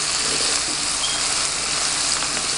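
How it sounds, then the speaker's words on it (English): Bell peppers and onions sauté in a hot pan for corned beef, giving a steady, close, continuous sizzle and hiss that holds evenly throughout with no talking. "So I load on my vegetables and let it saute to get it nice and soft."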